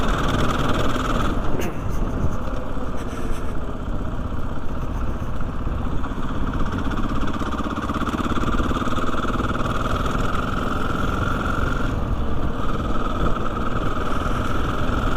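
A Husqvarna FE501 street legal enduro dirtbike engine drones steadily while riding along a road, a continuous mid-pitched hum with wind noise, loud and close throughout.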